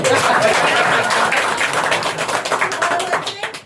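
A burst of audience applause at a Bengali stage play, dense clapping loud at first, then thinning and fading out over a few seconds.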